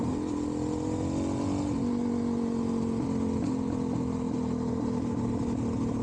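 A Suzuki DRZ400SM motorcycle engine drones steadily up close, its pitch sagging and climbing slightly as the throttle shifts, loud and continuous with no voices.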